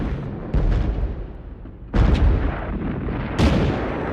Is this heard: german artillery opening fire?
yes